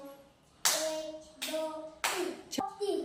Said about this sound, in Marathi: तीन तीन टाळ्या वाजव